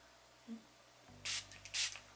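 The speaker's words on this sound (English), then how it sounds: "I'm going to spray a little bit of water" A spray bottle gives two quick bursts of water mist, sharp hissy spritzes close by after a faint tap, in otherwise quiet surroundings.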